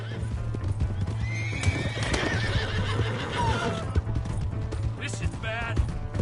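A horse in a PS4 video game gallops with steady clip-clopping hooves and neighs loudly, set against continuous game background noise and some voices.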